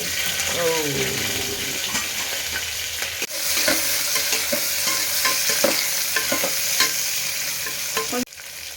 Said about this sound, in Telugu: ఒక రెండు పచ్చిమిరపకాయలు ఉల్లిగడ్డ ఫ్రై